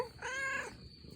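A pet cat back home after hiding from the rain under a shed gives a single clear meow, drawn out and close, against a quiet indoor room.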